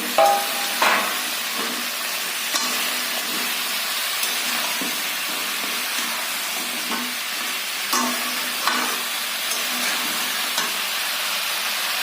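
Chopped vegetables frying in a pan, a loud continuous sizzle and hiss with occasional clinks and scrapes of stirring, no voices.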